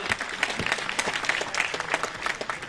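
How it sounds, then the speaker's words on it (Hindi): An audience clapping at a talk in Lucknow, a short spell of quick, fairly loud handclaps with distinct individual claps standing out from the group, and no speech over it. "ताली बजाओ"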